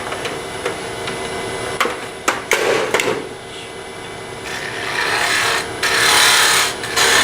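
A wood-turning lathe tool takes light, slow cuts on an oak tool handle, making intermittent dry scraping and rasping with a few sharp ticks and knocks.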